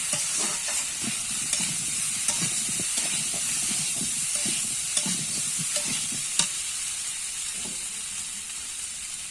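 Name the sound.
stirring and frying shrimp with chili powder in a pan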